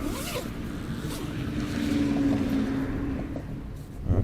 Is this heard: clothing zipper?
yes